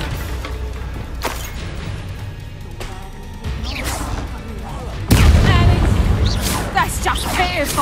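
The Bombarda explosion spell in Hogwarts Legacy goes off during a chaotic duel, a heavy loud boom striking midway among whooshes, impacts and background combat sounds, with voices talking over the fight.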